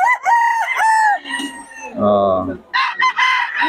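A nine-month-old stag, a young rooster, crows up close at a market, a loud drawn-out call with a rough, breaking finish, followed by clucking and a few sharp bird calls; a man briefly exclaims partway through.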